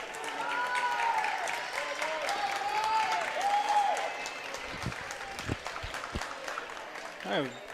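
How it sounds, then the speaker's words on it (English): Applause from the crowd in a school gym during a girls' high school basketball game, Searsport at Central Aroostook, a steady clatter of clapping lasting several seconds with a loud announcer voice over it. "Round of applause for the athletic director, Heather Bradbury"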